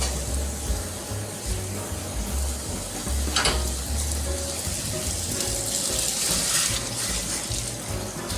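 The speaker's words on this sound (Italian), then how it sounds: "Adesso che il vino è sfumato aggiungiamo il brodo." Broth hisses and bubbles steadily as it is added to asparagus risotto made with carnaroli rice in a pan after the wine has cooked off. The sizzle carries on throughout with a brief splashy swell partway through.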